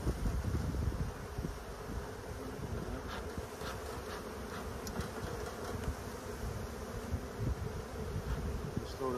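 A dense, continuous buzzing of many honeybees swarming close by during beekeeping, with individual insects droning past over a steady hum.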